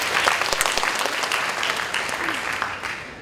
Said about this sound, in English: why don't you give yourself a round of applause?